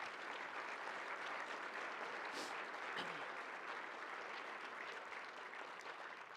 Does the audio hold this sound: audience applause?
yes